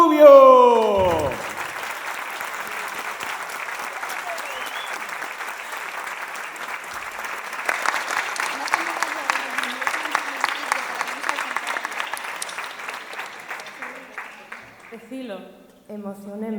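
Sustained audience applause at a singing show following a trumpet and vocal performance, opening with a sung note, then dense steady clapping with cheers and voices mixed in, fading out before a voice returns near the end.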